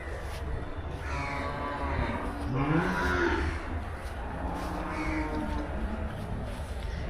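Cattle bulls at the Melapalayam livestock market, lowing and mooing loudly over a steady crowd-and-market din, several drawn-out calls overlapping throughout.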